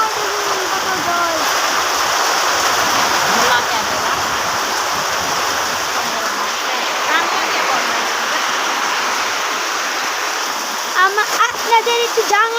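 Heavy water pours and rushes steadily right outside a window, a loud continuous gush with splashing under it and a few brief knocks near the end.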